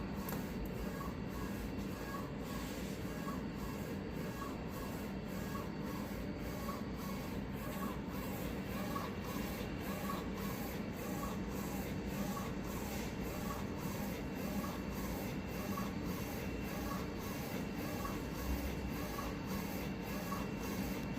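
An R2 Pro DTF printer, just restarted after sitting idle for 12 days, runs a colour print pass with a steady mechanical whir and regular rhythmic clicks from the moving print head, close and continuous, with no talking.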